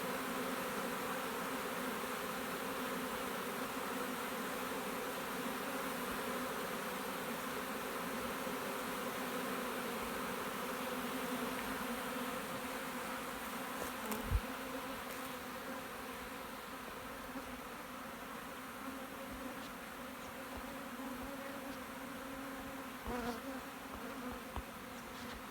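A swarm of honeybees buzzes continuously around a box in a tree-lined outdoor spot, a dense, steady drone of many wings with no pauses, a few faint knocks in the background.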